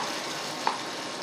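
Chopped banana flower (mocha) goes into a hot pan, giving a steady soft sizzle of frying with one brief sharper crackle midway.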